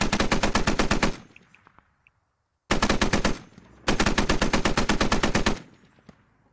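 .50 cal heavy machine gun fire in the game Squad, three loud rapid bursts of evenly spaced heavy rounds close by, separated by short pauses with faint echoing tails.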